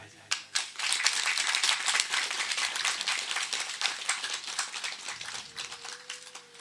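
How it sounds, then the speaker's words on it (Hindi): Satsang gathering at a Rajasthan ashram clapping loudly for a birthday: a rapid, dense burst of many hands that stays strong, then thins toward the end as a voice comes in. "एक जोरदार ताली बजाएं"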